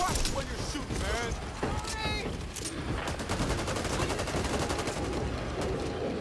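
Fast automatic gunfire in the co-op zombie shooter Back 4 Blood, rapid repeated shots rattling close and loud over a busy background, with brief voice-like sounds early on.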